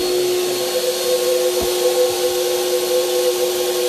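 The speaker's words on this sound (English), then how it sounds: "It's an Apollo sprayer. It's the Eco Series." An Apollo Eco Series paint sprayer runs with a loud, steady turbine whine and airy hiss, spraying metallic paint onto furniture, droning continuously without a break.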